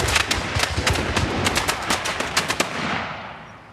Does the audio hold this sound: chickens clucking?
no